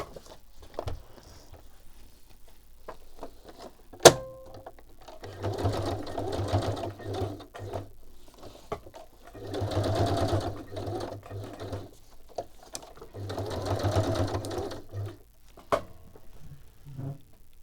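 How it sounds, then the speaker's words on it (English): A sewing machine stitches in three separate runs of steady whirring, with quiet clicks, taps and handling noises in the pauses between them. "I'm stitching."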